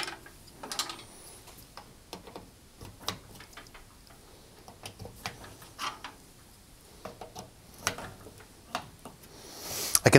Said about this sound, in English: And then I can refit the screws and the knobs.